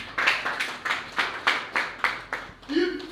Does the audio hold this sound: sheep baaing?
no